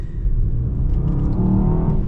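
A 2025 Mercedes-AMG S63 E-Performance revs close and loud, a deep throaty engine roar rising in pitch with faint crackles over a steady rumble.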